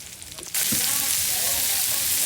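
Ginger and garlic sauté in a pan. A quiet start gives way to a sudden, loud, close sizzle that holds steady.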